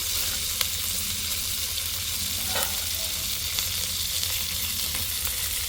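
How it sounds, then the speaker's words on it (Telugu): Goat head curry pieces fry steadily in a pan as chili powder goes in, a loud, continuous close sizzle with faint stirring scrapes and no talking. "సో ముక్కలు అనేది ఈ విధంగా వేగాక మనం ఇప్పుడు ఇందులోకి కారం వేసుకుందాం"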